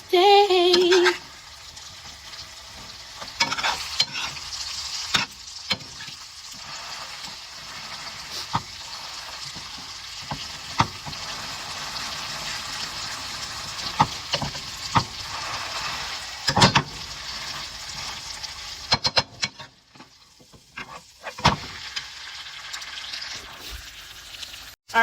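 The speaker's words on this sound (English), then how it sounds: "Baste that steak." A steak sizzles in a hot pan while being basted with butter, a continuous hiss of frying with scattered spoon and pan clicks, fairly close and steady throughout with no talking.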